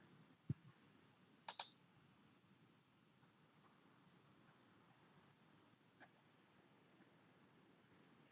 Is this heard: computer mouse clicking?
yes